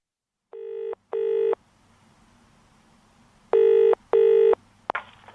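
Telephone keypad dialing tones open a phone call between two friends in an English listening exercise: two long tone bursts, a pause, then two more and a short ringing burst, all clear and close with no talking.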